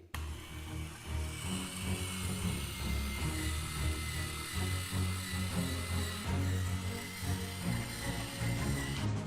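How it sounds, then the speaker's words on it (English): Electric potato peeler gadget turning a potato against its blade, a continuous low mechanical whir with rhythmic scraping and rattling, fairly quiet and steady. "First you take like a potato, for example, stab it on there, bring this down. It's supposed to make peeling easier."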